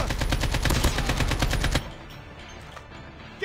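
Rapid gunfire in a Call of Duty video game rattles in a fast, even burst of loud close shots lasting under two seconds, then cuts off to quiet background ambience.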